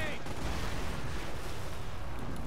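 A dense, continuous roar of explosions and rumbling blasts from an artillery bombardment in Company of Heroes, loud and unbroken throughout.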